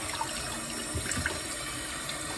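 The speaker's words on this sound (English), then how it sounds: "You know you gotta rinse these broccolis good because there be dirt all in the middle of the broccoli." Tap water runs steadily into a sink as broccoli is rinsed, a close, continuous splashing flow with slight irregular spatters throughout.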